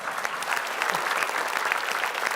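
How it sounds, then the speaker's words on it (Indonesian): A group claps steadily and briskly for a couple of seconds, a dense patter of hands at close range with no voices over it. "tepuk tangan buat saya, ayo"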